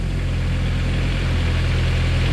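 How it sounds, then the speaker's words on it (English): A Kubota diesel engine on a 2014 Moffett M55 truck-mounted forklift runs at a steady, loud idle, with a constant low rumble and a slight vibrating texture throughout, no voices. "Here's your Kubota coming to life."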